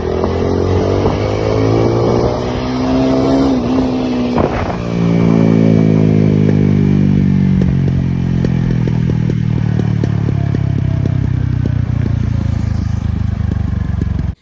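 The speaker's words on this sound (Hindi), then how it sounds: "कितना मस्त एग्जॉस्ट का साउंड आ रहा है इसका" A TVS Apache RTR 200 motorcycle with a dual-barrel exhaust runs loud and close for about fourteen seconds, the engine revving up and settling with a rough, crackling rattle of pops from the exhaust throughout.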